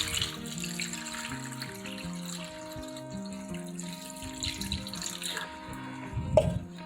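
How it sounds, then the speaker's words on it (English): Water poured from a tap into a container of collected eggshells, a steady running, trickling flow with a brief louder splash near the end. "Grab water, put it in."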